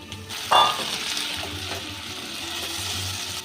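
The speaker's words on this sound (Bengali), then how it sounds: "ঢাকা দিয়ে আলু মূলো ভেজে নিয়েছি, পেঁয়াজও ভাজা ভাজা হয়ে গেছে।" Potato, radish and onion fry in oil in a pan, a steady close sizzle with one brief louder clatter near the start as the pan is stirred.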